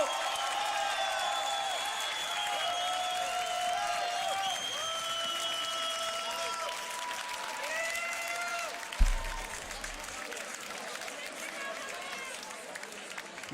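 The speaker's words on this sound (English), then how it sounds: "Make some noise for Saro!" A crowd at a beatbox loopstation battle applauds and cheers for a performer, steady clapping and whooping over a distant live mix, with a sharp thump partway through.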